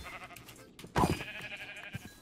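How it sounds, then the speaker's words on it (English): Sheep in Minecraft bleat over faint game background sound, with one louder bleat near the middle and softer calls around it. "There's the sheep."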